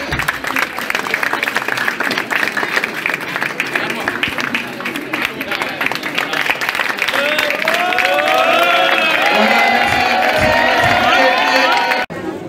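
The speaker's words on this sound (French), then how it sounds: "Allez, applaudissez." Crowd applause and cheering at the inauguration of a dojo in Karthiack, Casamance, steady clapping throughout with a few shouts, people talking over it, and whistling tones rising toward the end.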